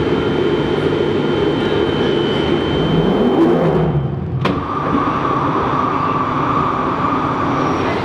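A London Underground Night Tube train runs with a steady, loud rumble of wheels and carriage noise, a brief rising whine and a sharp burst near the middle, then a continuing hum.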